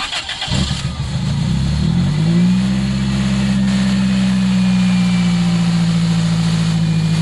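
A 2003 Toyota Celica GT-S 1.8-liter engine cranks briefly, catches, and settles into a steady, loud idle hum that continues evenly to the end.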